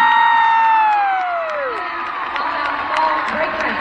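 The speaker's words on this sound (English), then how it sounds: "Let's go ahead and give these guys a round of applause." At a novice high school drill competition, a crowd cheers and whoops loudly with some applause. A bright shout slides downward over a steady roar of voices that holds for a few seconds.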